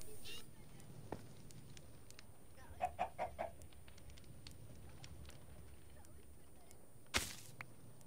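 Minecraft chicken clucking in a quiet game scene, a short run of soft clucks near the middle with a sharp click later; faint and sparse over low background.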